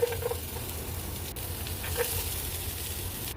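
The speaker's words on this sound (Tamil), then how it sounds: "வெங்காயத்தை வதக்கி விடலாம்" Onion sautés in hot oil with ginger and garlic in a pan, a steady close sizzle and soft hiss running throughout with a few faint scraping touches.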